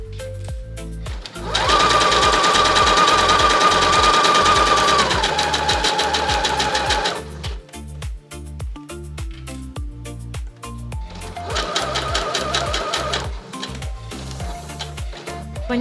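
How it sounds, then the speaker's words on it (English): A sewing machine stitches around the edge of a tote bag with a fast, even mechanical whir. It runs in one long burst, pauses with a few quieter clicks, then makes a second shorter run close to the microphone. "And sew around the edge. I would recommend starting in the middle and sewing out to the corners."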